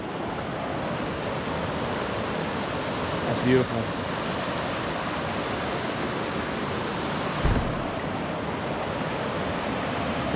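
20-Mile Creek in the Smoky Mountains of Tennessee, a steady broadband rush of flowing water heard close by along a trail, with a brief spoken remark and a couple of soft bumps.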